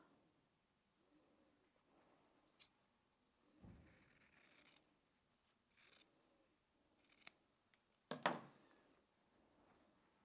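Scissors snip through fabric scraps for a diamond-pattern blanket, a few crisp, quiet cuts spaced out against a faint background, with one sharper snip near the end.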